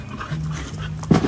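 A dog whimpers close by, a thin high whine that rises into a short yelp at the end.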